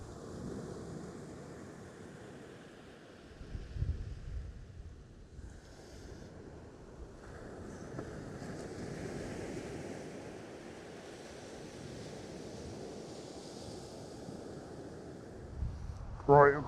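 Rough sea waves and strong wind on the coast at Trimingham during a storm while sea fishing, a constant roaring wash with wind buffeting the microphone and a louder knock at the end.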